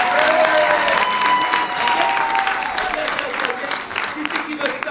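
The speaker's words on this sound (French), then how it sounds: "applaudissez, applaudissez." Applause from the crowd at a live comedy stage show, dense and steady clapping that stays loud for several seconds before thinning slightly, with a voice faintly over it.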